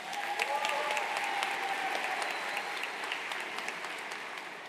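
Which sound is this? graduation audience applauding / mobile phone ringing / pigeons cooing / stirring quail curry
graduation audience applauding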